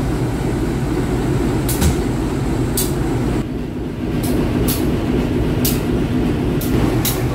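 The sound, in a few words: Kaligung train with vintage locomotive at Tegal station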